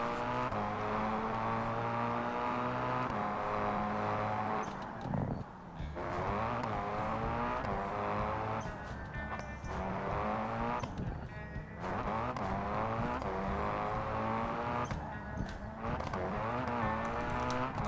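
A race car in a video game revs at high pitch and squeals its tyres as it slides sideways and spins, the engine note rising and falling steadily with no pauses.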